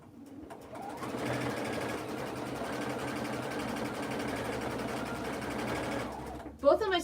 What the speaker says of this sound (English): I also like to go ahead and sew off the edge and then spin my bag and then start the next one